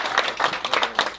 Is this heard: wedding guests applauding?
yes